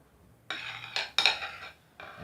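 A spoon scraping and clinking against a dish while mixing cream for a cream cake, several short, close strokes in an uneven rhythm.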